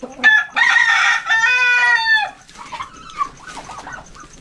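Chickens cluck and a rooster crows nearby on a small farm, the crow rising and falling loudly before softer clucks trail off.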